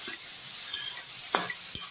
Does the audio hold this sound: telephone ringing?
no